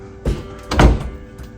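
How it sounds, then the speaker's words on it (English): A door being closed in a house on a Tennessee homestead, heard as two dull thunks, a lighter knock followed by a heavier slam, close by and with no talking. "Close this door,"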